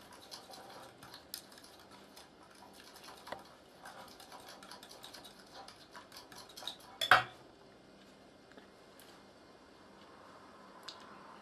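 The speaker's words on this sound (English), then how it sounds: "Stirring it all in" Cake mixture with vanilla essence is stirred in a bowl, soft repeated clicks and scrapes of a utensil against the bowl, faint and close, with one sharper clack partway through.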